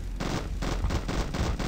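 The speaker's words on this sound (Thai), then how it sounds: "นี่ครับใช้ปืนกลยิงนะฮะ" Rapid bursts of machine-gun fire in the mobile game Zombie Gunship Survival, several loud close volleys separated by short gaps, with no talk.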